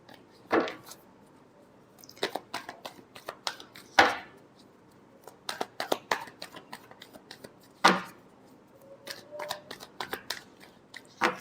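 Tarot cards being shuffled by hand in sharp, crisp bursts of riffling and slapping, spaced irregularly with quiet pauses between, close and clear with no talking.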